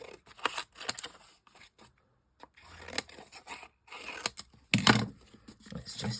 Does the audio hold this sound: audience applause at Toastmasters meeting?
no